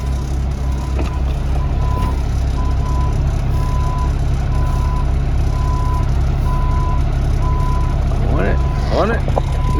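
A dump truck backs up very slowly during a paving job, its backup alarm beeping steadily in an even rhythm over a loud, constant diesel engine drone, with a few brief squeaks near the end.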